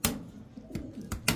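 A male Hungarian highflyer Budapest pigeon, black tiger coloured, gives a few soft cooing notes separated by brief gaps, quiet and close, with no other sounds.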